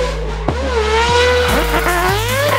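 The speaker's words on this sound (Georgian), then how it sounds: "Mazda RX-7-ის როტორული ძრავიდან მართლაც უჩვეულო და ემოციური ხმა გამოდის." Loud, close rotary-engine wail from a Mazda RX-7, rising in pitch and cutting back at several rapid shifts in under three seconds, with no voices.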